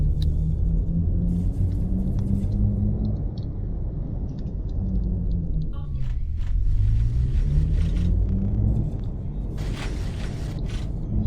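A PMZ T2 trolleybus pulls away in a driving game, its electric traction motor whining upward in pitch, dropping, then rising again over a constant heavy rumble, with occasional faint clicks and scrapes.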